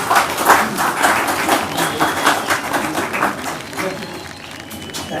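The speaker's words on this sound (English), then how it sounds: "Give him a good applause." An audience at a Mumbai event welcomes Dr. Frank Islam with dense, steady applause that fills the whole stretch, along with some crowd noise and possible voices mixed in.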